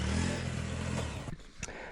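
A motorcycle carrying five riders on a road trip in Africa rumbles steadily nearby, its engine drone fading somewhat toward the end, with a brief scrape or clatter.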